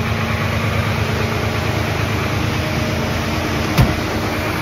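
A farm tractor idling in place with the parking brake set during grain bin filling, a loud, steady low rumble with even vibration, heard alone apart from a single brief click near the end.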